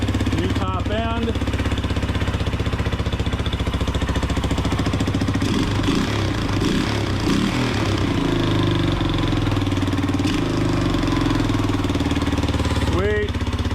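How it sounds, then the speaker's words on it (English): Freshly rebuilt Honda 200X engine with new clutches and top end runs steadily at a loud idle, its continuous low drone filling the whole clip, with a few brief rev blips and a person's voice speaking over it. "Yeah, freshly built motor, new clutches, new clutch spreads, new top end."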